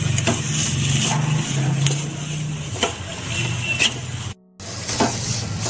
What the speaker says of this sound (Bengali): আরো 2 মিনিট মতো নাড়িয়ে নেব।